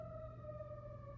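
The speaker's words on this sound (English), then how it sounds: "I do apologize for the fucking sirens that's in the fucking background" A steady emergency siren tone, faint and distant in the background, wailing without a break and with no talk.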